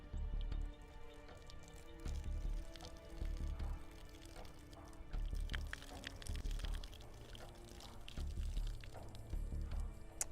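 Water pours and splashes steadily onto a gun optic, with irregular drips and trickles continuing throughout at low volume.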